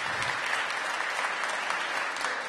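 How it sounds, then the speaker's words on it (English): A crowd claps steadily and enthusiastically, a dense wash of applause that holds at the same level from start to finish. "Give her a round of applause."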